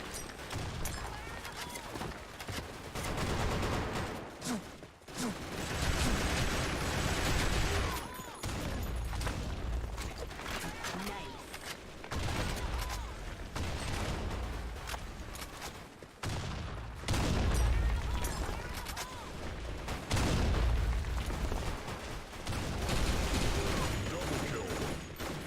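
Rapid gunfire bursts from the shooter game Blackshot, bursts of shots separated by brief lulls amid game effects, with a player talking over parts of it.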